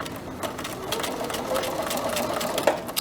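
Sewing machine stitching at a steady rapid rhythm, a close mechanical whir and tapping that runs continuously, with a faint voice in the background.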